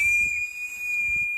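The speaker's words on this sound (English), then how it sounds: "bold, blowing whistles to remember a whistleblower" People in Wuhan blowing whistles in remembrance, a single sustained shrill whistle tone held steadily for the whole moment over faint low background noise.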